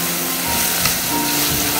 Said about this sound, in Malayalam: നമുക്ക് നന്നായിട്ടൊന്ന് വഴറ്റിയെടുക്കാം.